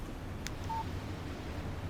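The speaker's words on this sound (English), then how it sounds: "Text message from Barry." A phone text-message alert plays in the video game Alan Wake Remastered: a faint click followed by a single short electronic beep over a low, steady background hum.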